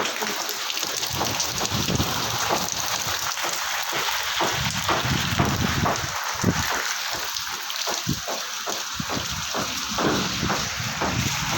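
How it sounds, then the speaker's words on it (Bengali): Heavy rain in a sudden storm sprays in through the openings of a house, a dense, loud hiss with rough gusting bursts throughout and no voices. "এত ছাট আসছে দেখাতে পারছি না ঘরের ভিতর ঢুকে আসছে জল"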